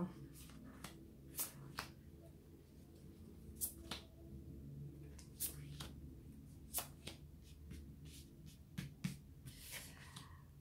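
A deck of cards is shuffled and cut for a card reading, giving soft riffles and sharp snaps scattered over a low background hum, with quiet speech at times.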